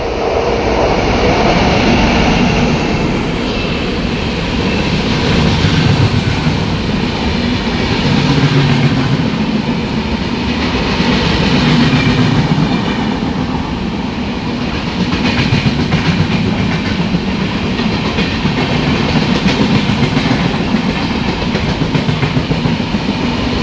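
Mumbai LTT Netravati Express passing through Irinjalakuda railway station, a loud continuous rumble with clickety-clack of wagons rolling past close by for the whole stretch, no talking.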